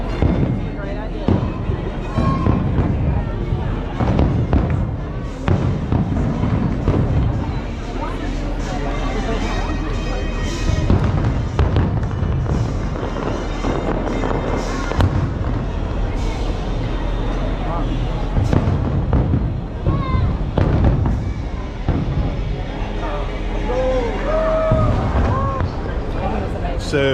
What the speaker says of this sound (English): So I hope you enjoyed some of the firework footage I got.